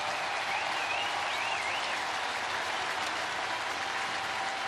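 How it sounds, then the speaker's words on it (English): A baseball crowd at a Brewers versus Cardinals game gives sustained applause across the stadium, a steady, distant roar of clapping with a faint whistle rising over it. "They're getting a great round of applause."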